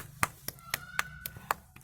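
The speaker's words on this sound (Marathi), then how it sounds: "क्लॅप म्हणजे टाळ्या" A small child claps hands at home in about seven separate, sharp, evenly spaced claps, close and distinct, with quiet gaps between them.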